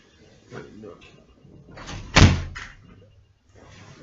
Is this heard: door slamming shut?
yes